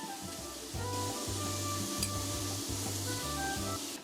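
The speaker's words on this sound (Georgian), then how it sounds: "და კარაქში მოვშუშოთ კარგად." Butter sizzles steadily while sautéing in a pan for a beef and mushroom julienne, a continuous close crackling hiss with a low tonal hum running underneath.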